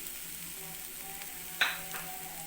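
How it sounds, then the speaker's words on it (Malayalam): Kashmiri chili powder mixture sautés in a pan with a low, even sizzle, broken once by a short sharp clink of a utensil midway. "എന്നിട്ട് നമുക്ക് നന്നായിട്ട് ഇതിനെ വഴറ്റി കൊടുക്കാം."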